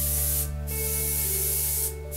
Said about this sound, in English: And I'm doing this with the airbrush.